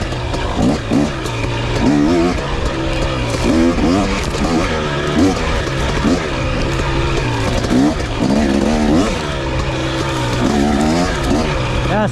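A KTM two-stroke dirt bike, either a 2023 250 XC TBI or 2022 300 XC-W TPI, ripping a lap nearby with repeated revving bursts, rising and falling throttle and gear changes, loud and continuous.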